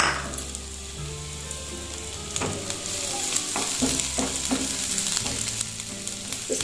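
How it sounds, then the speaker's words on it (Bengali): Two tablespoons of chopped garlic fry in a pan for a white-sauce penne pasta, giving a steady bright sizzle with a few stirring scrapes near the start and later on. The sound is close, with no talking. "ফার্স্টেই আমি দিচ্ছি 2 টেবিল স্পুন রসুন কুচি।"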